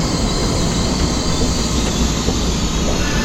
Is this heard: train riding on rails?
yes